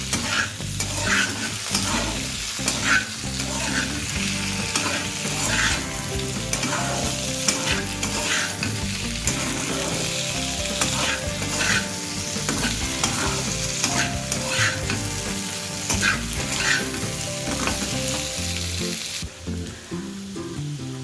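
Potato pieces fry in a pan, a steady dense sizzle running throughout under frequent rhythmic scrapes and clinks of the stirring spoon, close and fairly loud, with no talking.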